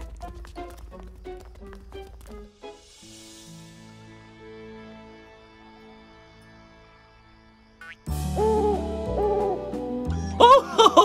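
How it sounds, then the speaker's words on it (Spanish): A dodo owl in the Jelly Jamm cartoon hoots at night with soft, hollow tones against a calm musical backdrop, after a run of light tapping and before brighter, busier music takes over. "Es solo un dodo búho. Es el sonido que hacen de noche."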